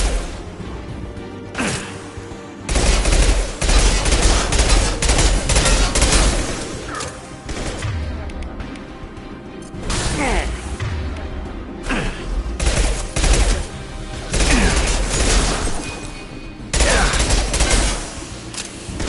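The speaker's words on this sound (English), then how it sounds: "Firing concussion shot!" Weapon fire in the Mass Effect video game, a concussion shot among bursts of gunfire, whooshes and crashing impacts, loud and dense in repeated volleys with little pause.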